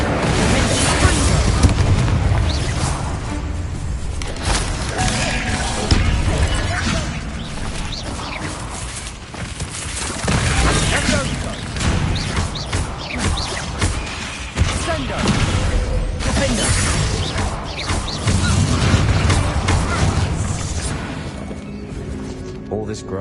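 Explosive spells burst repeatedly in the video game Hogwarts Legacy, with dense booms, crashes and blasts following one another in a loud, continuous combat barrage while a voice speaks over the action.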